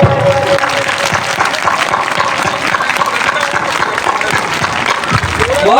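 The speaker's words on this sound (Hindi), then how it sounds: "तालियां बजाते रहिए आप लोग, मैं भी बजाऊंगा।" A school crowd at an annual celebration and award ceremony claps loudly and continuously for a student being honoured, a close, dense roar of applause with voices underneath.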